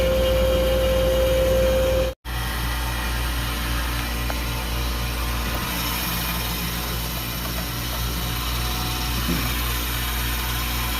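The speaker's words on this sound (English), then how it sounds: "Man, does that compressor sound like crap?" Worn compressor on a Manitowoc Indigo ice machine running with a steady, rough mechanical drone and faint rattle, loud and continuous apart from a momentary dropout early on, no voices over it.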